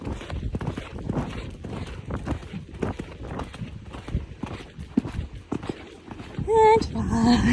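Horse cantering in a horse show arena, its hooves clip-clopping in a steady rhythm at moderate distance, with a rider's voice murmuring over the gait and a short whistle-like tone near the end.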